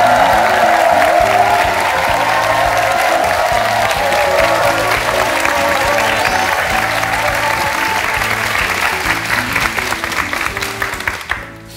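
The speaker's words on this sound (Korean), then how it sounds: "큰 박수로 모시겠습니다." Warm, loud applause from a studio audience on a Korean talk show greets a guest's entrance, continuous clapping under backing music that fades away at the end.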